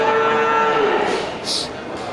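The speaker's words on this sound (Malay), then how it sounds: "ini ada 3 ekor terlihat sapi Bali" Bali cattle mooing, a long low bellow that fades out, followed by a brief higher hiss of background noise.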